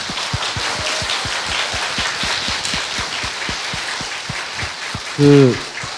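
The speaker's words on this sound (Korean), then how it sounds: "여러분, 마 선생님한테 박수 좀 부탁드립니다" A talk-show studio audience claps in a steady, rhythmic patter that holds evenly for several seconds, with a brief voiced sound near the end.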